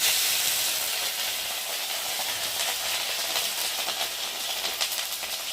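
Tomato added to spices frying in hot oil, a continuous bright sizzle and hiss close by, loudest at the start then settling into a steady crackling fry with small pops.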